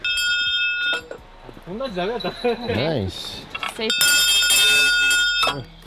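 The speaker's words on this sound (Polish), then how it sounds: "mieliśmy dzwoneczek, żeby straszyć niedźwiedzie" A small bell carried on a hike to scare away bears, jingling with bright metallic rings, first faintly under people talking and then ringing loudly and continuously for a couple of seconds.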